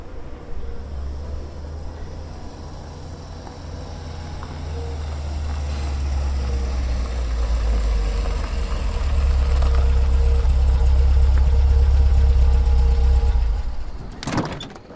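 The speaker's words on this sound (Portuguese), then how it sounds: "O carro encostou, Washington abriu a porta" A taxi rolls up to the curb with a low engine hum that grows louder and settles into a steady idle. A sharp door click and clatter come near the end.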